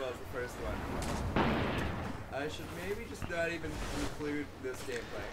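Destiny: Rise of Iron combat with booming rocket blasts and gunfire, a sharp heavy impact followed by scattered shots and rumbling, mixed with game effects and someone talking over it.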